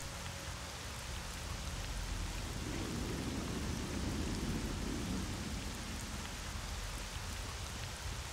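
A steady wash of rain pours down in S.T.A.L.K.E.R. Shadow of Chernobyl, with a low, rolling rumble of thunder swelling in the middle and fading out, all fairly quiet and without talk.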